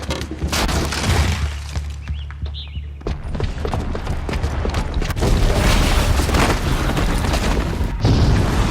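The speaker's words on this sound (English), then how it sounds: "the booby trap on the bomb downstairs is gonna get set off" A bomb booby trap detonates in Horizon Zero Dawn, a loud sustained boom with crumbling, shattering debris rolling on for several seconds, then a second surge of rumbling blasts near the end.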